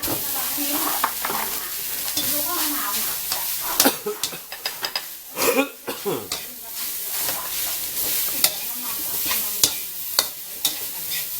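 Rice is mixed with shrimp paste in a pan with soft sizzling, irregular clinks of a utensil against the pan throughout.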